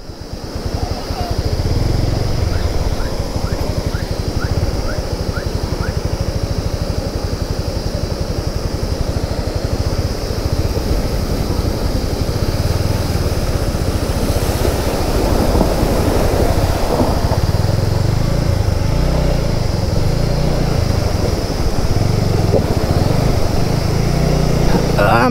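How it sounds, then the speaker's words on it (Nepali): A motorcycle crossing a flooded stream on a Nepal hill road: a loud, continuous rush of water and wind, with a low engine drone under it throughout. "अब म यो वाटर क्रसिङ गर्दैछु"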